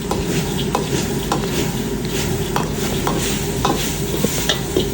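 Salmon cooking in a spicy, sour sauce in a pan, a dense, loud, continuous bubbling sizzle with occasional spatula scrapes and taps, heard up close with no voices.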